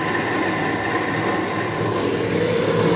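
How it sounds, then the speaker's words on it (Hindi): A kitchen chimney exhaust fan runs alongside a flour mill (chakki) grinding nearby, producing a loud, steady broadband roar with a constant mechanical drone that fills the whole stretch without letup. "मेरी आवाज़ कम आ रही होगी क्योंकि चिमनी भी चल रही है और उधर चल रही है चक्की"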